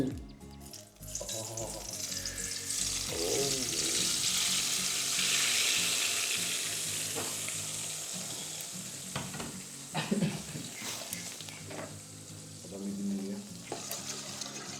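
Chili oil sizzles and crackles steadily in a pan, a loud dense hiss that runs throughout with a few sharper pops and stirring clatters near the end.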